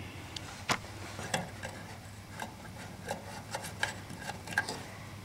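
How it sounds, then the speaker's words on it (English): A small quarter-inch ratchet wrench turning 7mm bolts under a 1987 Ford F150 during rear fuel tank pump replacement: a series of soft, irregular clicking and rubbing strokes, close and fairly quiet, with no voices. "I'm using a little quarter inch ratchet wrench."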